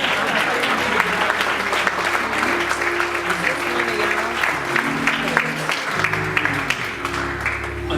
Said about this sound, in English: Can we give God a hand clap?